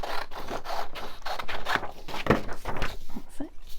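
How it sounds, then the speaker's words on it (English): Scissors cut a white paper strip from a printed envelope, a close series of short crisp snips and rustles alongside brief talk. "Let me just cut the white strip."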